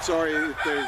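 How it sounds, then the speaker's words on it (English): Free-range roosters crowing outdoors on a small farm, one loud, near crow rising and falling across the whole moment while a person talks over it. "you hear the roosters in the background"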